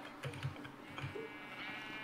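Sheep bleating in a video game, a couple of short, faint bleats in quick succession over quiet background game ambience.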